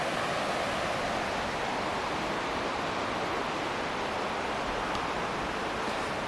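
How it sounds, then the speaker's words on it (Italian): Steady broadband rushing water of a river flowing below a path in the Predaselj gorge near Kranj, Slovenia, continuous and even with no voices. "lì sotto c'è il fiume"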